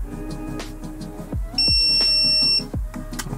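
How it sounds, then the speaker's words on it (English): An Outin Nano portable electric espresso machine gives a single sustained electronic beep lasting about a second, close and clear, amid faint clicks and handling sounds. "press this button and hold until you hear a beep."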